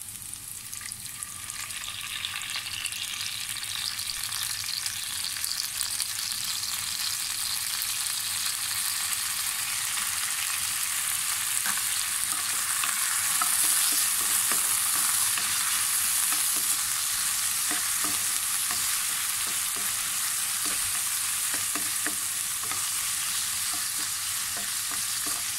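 Ampalaya (bitter melon) frying in oil in a pan, stirred steadily the whole time, with a continuous bright sizzle and occasional scraping of the utensil, close and fairly loud with no talking.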